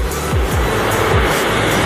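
Buses on an Indonesian highway, with a loud, steady engine and road roar close by and several low swooping pass-by tones as vehicles overtake, no talk.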